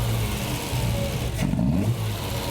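Triumph TR6 engine, converted from carburettors to fuel injection, revs steadily close by as the throttle is pressed, holding a continuous loud drone with a brief swell midway and a slight hesitation.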